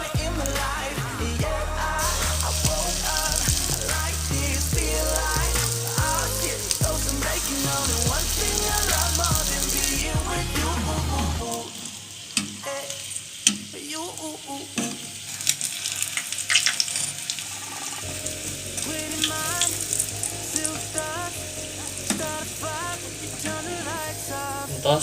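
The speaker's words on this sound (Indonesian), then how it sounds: "Bis eta goreng api na leutik." Cireng dough sizzles and crackles in hot oil over low heat, a dense continuous frying sound that later thins into scattered pops and bubbling.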